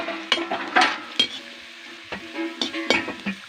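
Chili, onion and garlic sizzle and crackle in hot oil in a pan as they are stirred, with repeated sharp spatters and scrapes close by.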